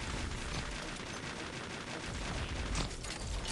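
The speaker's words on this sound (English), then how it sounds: "Who's shooting me?" Rapid gunfire in the mobile shooter Pixel Gun 3D, a dense continuous burst of shots at low level, with a slightly sharper crack near the end.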